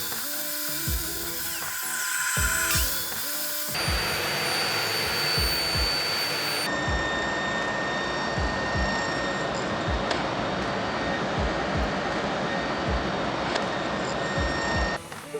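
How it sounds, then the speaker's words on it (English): A wood router grooving scrap pallet wood, a loud high-pitched whine with repeated cutting passes and rhythmic bursts, close up, with the tone shifting between segments and no talk. "Groove here, and then I'll route it out,"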